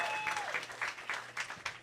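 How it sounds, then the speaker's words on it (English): Audience applause for comedian Opie at a live comedy joke-off show, a steady wash of clapping with a few louder bursts, a faint voice briefly audible underneath. "one more round of applause for Opie and everyone in that round"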